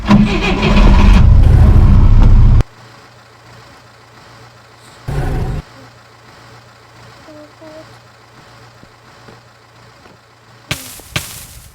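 Car engine in the video game Minecraft cranks and starts with a loud roaring burst, then settles into a low, steady idle hum broken by a couple of short revving bursts.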